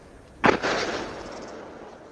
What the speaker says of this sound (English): That's the sound of the explosion from Cody Warren.